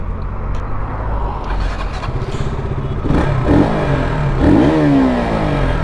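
Pulsar RS200, MT-15 and KTM RC200 motorcycles lined up for a drag race, engines idling loudly and close, then throttle blips rising and falling in two bursts near the end.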